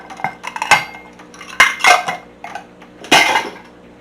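A spoon clatters and scrapes against a large bowl while baking soda is mixed for homemade bath bombs: a few sharp clinks and brief scraping bursts, close and fairly loud, with no talking.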